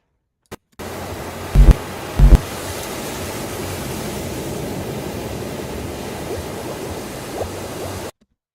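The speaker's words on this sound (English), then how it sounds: "It's pretty full on that sound, isn't it? That bubbling." A continuous bubbling, rushing wash plays as a sound effect in an edited lucid dream sequence, steady and loud for several seconds after a couple of low thumps near the start, then cutting off abruptly.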